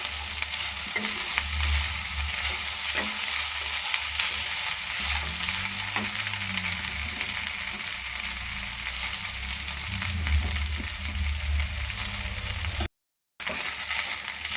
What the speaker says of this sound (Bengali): আবার নাড়াচাড়া দিয়ে নিচ্ছি।